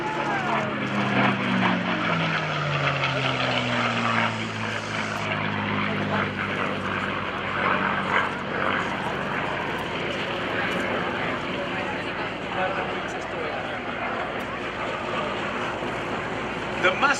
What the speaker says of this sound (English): listen to the sound of that Merlin V12 liquid-cooled engine on the Mustang.